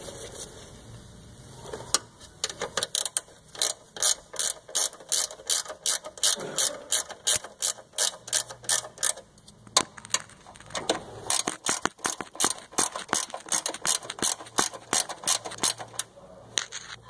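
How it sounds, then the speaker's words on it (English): A ratchet wrench clicks rapidly and repeatedly, close and clear, as bolts are worked loose on a 2010 PT Cruiser with a 2.4L engine, in quick bursts separated by short pauses. "Got a ratchet wrench here."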